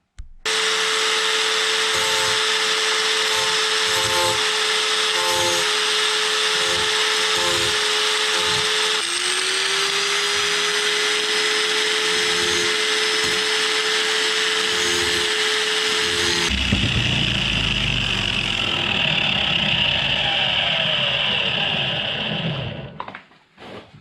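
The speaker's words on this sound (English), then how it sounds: "put on a grinding disc for this, see if I can just touch up that edge and get that off" A grinding disc on a power tool grinds a rivet off an antique toolbox: a loud, steady motor whine with the pitch dipping under load, then a harsher, rougher grind with a deep rumble before the tool winds down.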